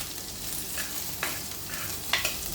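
Ginger and garlic stir-frying together in a pan as the base for a curry, a steady close sizzle broken by a few sharper scraping stirs near the end.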